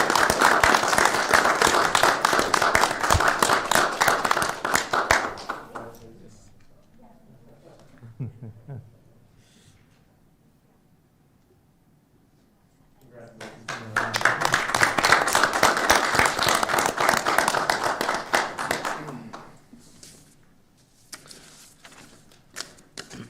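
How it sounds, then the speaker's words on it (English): Audience at a school board meeting clapping for school award recipients, two bursts of dense applause several seconds long separated by a quiet gap with faint talk and stray claps. "if we can clap our hands for Dr."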